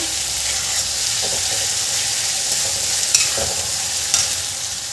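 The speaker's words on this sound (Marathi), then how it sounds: "आता याला छान परतून घ्यायची आपल्याला." Radish greens sauté in an iron kadhai with a constant bright sizzle, punctuated by several soft scraping stirs of a spatula against the metal; no voices.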